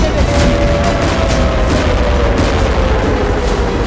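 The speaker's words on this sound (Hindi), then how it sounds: "एक और आर्टिलरी गन फायर की गई" Artillery guns fire during fighting in Gaza, a loud, dense rumble of distant booms and blasts running without a break, with a steady low roar beneath the reports.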